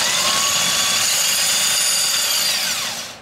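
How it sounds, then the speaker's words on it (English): A power tool whirs continuously at high speed, spinning a powersports engine over, loud and close with a steady tone that begins to wind down at the end. "I'm gonna spin this on power tools"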